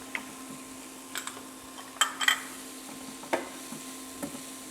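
Four cloves of minced garlic sizzle softly in a pan, a faint steady hiss broken by a few sharp clicks and taps of a utensil against the pan.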